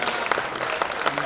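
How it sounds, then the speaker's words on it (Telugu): An audience at the bronze statue unveiling of SP Balu at Ravindra Bharathi claps in steady dense applause, close and loud, with a voice speaking over it. "మీరు ఎట్లా స్తబ్దుగా కూర్చుంటే మదరాదు, గట్టిగా చప్పట్లు కొట్టాలి"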